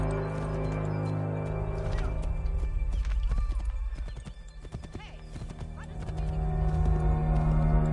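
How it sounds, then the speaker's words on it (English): Rapid hoofbeats of a galloping horse with a neigh in Assassin's Creed III, mixed over game music and effects, the rhythm fading briefly midway before picking up again. "gonna call the horse for this."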